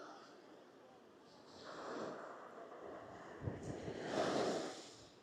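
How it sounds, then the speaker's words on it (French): Strong wind buffets the microphone on the beach at Rayol-Canadel, a broad continuous roar that swells louder toward the end, with gusty rumbling and faint surf beneath. "il y a un vent de malade"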